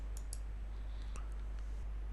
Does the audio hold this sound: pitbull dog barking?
no